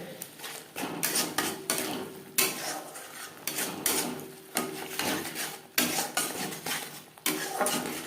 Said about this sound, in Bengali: মশলার সাথে লবণ হলুদ ও রেড চিলি পাউডার বেশ ভালো করে মিক্সড করে দেবো